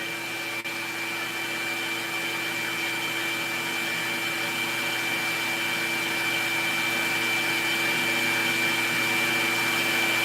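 Steady sanding on a wooden box to smooth away shaper tooling marks, a continuous close abrasive hiss with a power-tool whine that runs unbroken and fairly loud throughout.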